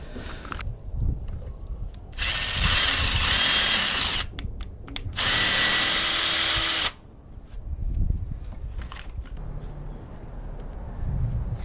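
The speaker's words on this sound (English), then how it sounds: "Now we're going to drill the paracord right in this corner over here." A power drill whines in a few loud bursts of a second or two, with quieter rustling and handling noise between them, drilling a corner of a DIY tailgate table for a Jeep Wrangler TJ.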